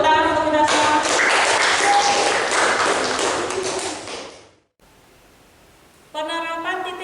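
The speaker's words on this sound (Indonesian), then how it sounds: "kita tepuk tangan lagi untuk hari ini" A class claps its hands together in a classroom at the end of a lesson, a dense burst of applause lasting about four seconds before fading out. Voices come just before and after it.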